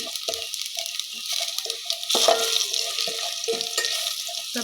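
Black cumin seeds frying lightly in oil in a pan for a banana-stem and lentil dish, a soft continuous sizzle with intermittent stirring scrapes close by, no talking.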